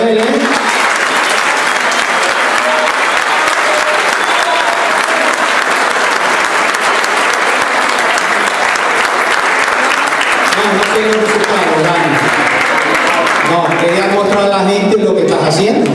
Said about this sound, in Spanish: Es Daniel Pérez Sanciel, pido un fuerte aplauso para él